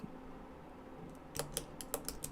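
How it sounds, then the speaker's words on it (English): A few sharp pen clicks sound close and alone after a quiet stretch, coming in an uneven cluster of about six quick snaps. "the clicking of my pen"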